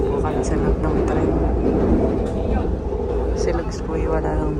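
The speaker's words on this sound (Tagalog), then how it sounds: "Nakasakay na po kami sa loob ng tren." Rumbling interior of an MRT metro train in Taiwan riding along, a steady loud low drone with rattles, with people talking over it throughout.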